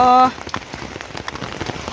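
Steady rain patters close by on a surface, a dense even hiss of drops that follows a brief tonal sound at the start, with no voices.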